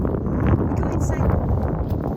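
Cold mountain wind buffeting the microphone in a steady low rumble close up, with soft gusty variation and a faint voice in the background.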